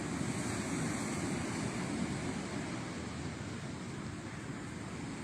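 Ocean surf washes steadily onto a sandy beach, a continuous broadband roar with some wind buffeting the microphone, no voices.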